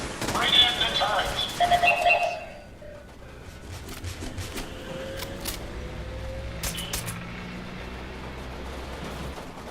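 Turret gunfire in Fallout 4, a brief burst of sharp shots in the first two seconds, then a low game ambience with faint tonal hums and a few scattered clicks.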